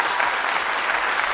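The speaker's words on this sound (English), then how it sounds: "Round of applause to Twitch." A studio crowd breaks into dense, steady applause during a live talk show, a continuous wash of clapping with no voices over it.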